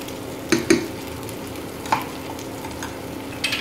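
Chicken fries lightly in a pan for Bombay-style biryani. A soft, steady sizzle is broken by a few sharp spoon or stirring knocks, all close by and without talk.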